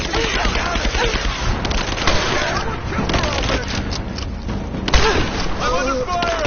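Sustained rapid gunfire and bursts from a video game battle, loud and continuous, with a sharp boom near the end, under frantic shouted voices calling out.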